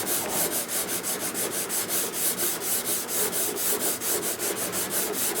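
A sanding block rubs back and forth across a wooden fingerboard in quick, even strokes, a close, continuous gritty scraping with a steady rhythm and no talking.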